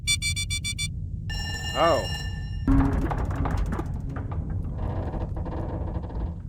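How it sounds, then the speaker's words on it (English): In the Duskers video game, a warning sounds before a room depressurizes. Repeated bright electronic beeping and ringing tones come first, then mechanical clanks and thuds, all over a low hum. A voice speaks briefly. "That's the sound of the lowest bidder's handiwork about to get a room depressurized."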